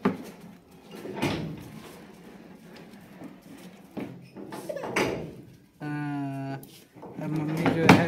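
A household door is opened, heard as brief knocks and a short creaking or tonal squeal partway through, mostly masked by nearby voices talking throughout.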